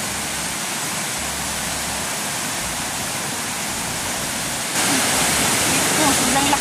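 Strong floodwater rushes down the Piñan river in a steady, dense roar that grows noticeably louder and brighter partway through, with no other sound breaking through.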